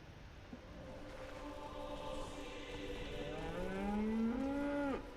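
A cow in a video game gives one long, drawn-out moo that rises and swells toward the end before cutting off, loud and close over a steady background hum.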